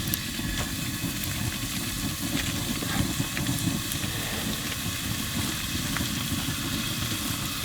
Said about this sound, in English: So I'm just browning some beef here